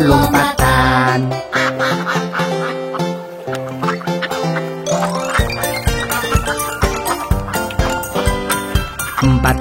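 Cartoon-style duck quacks in an Indonesian children's song about five big jumping ducks, repeated rhythmic quacks over loud, busy music.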